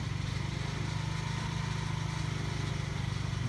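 A cold scooter engine idles steadily with a fast, even putter, continuous and close throughout.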